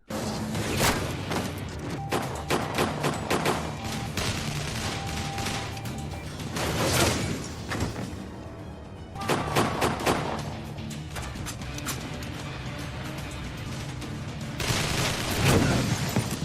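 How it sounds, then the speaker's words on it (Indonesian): Gunshots from a .50 caliber sniper rifle in a mafia hit film scene, loud repeated blasts and bursts over a dense, continuous soundtrack with several heavy clusters of fire. "Di sana Ray menggunakan sniper kaliber 50-nya."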